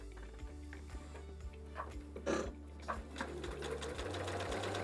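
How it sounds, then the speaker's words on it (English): A sewing machine stitches fabric for a scrappy oven mitt, running in a steady rapid rhythm with regular ticking pulses, close and fairly quiet, with a few faint handling noises and no talk. "And through this, we're just gonna sew."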